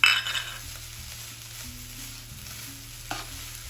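Chicken filling with salt, black pepper and garlic powder frying in a pan, a soft steady sizzle with a few clinks and scrapes of a utensil against the pan, close up and alone.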